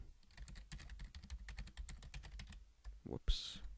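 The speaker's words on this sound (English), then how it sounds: "and type in your email address." An email address is typed on a computer keyboard, a quick irregular run of close key clicks that ends with a couple of louder strokes and a soft voice.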